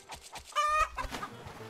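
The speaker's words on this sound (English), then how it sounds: "now I got a bigger chicken" Video game chicken in Roblox Egg Farm Simulator gives a few short clucks followed by a brief squawk, clear and close, with no voices.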